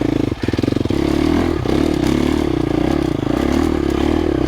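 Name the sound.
2025 KTM 350XCF dirt bike riding slowly uphill in first gear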